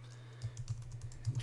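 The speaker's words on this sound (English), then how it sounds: "Basically though, you just come in here and start typing" Typing on a computer keyboard, a short burst of close, light key clicks tapping in an uneven rhythm against a low steady hum.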